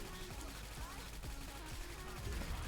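Rapid gunfire from the shooter game XSHOT, dense bursts of shots over busy game sound, with a voice talking over part of it.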